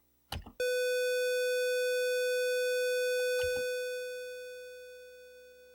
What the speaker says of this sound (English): Pulse waveform again.